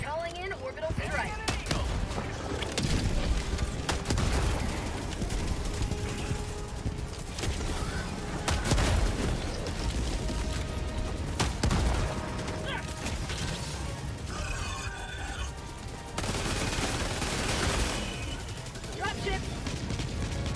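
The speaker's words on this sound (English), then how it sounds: "Calling in orbital strike." An orbital strike and ongoing gunfire in the shooter game Helldivers 2 make a dense, continuous barrage of booming explosions, crashing impacts and rapid shots, mixed with mechanical clatter throughout.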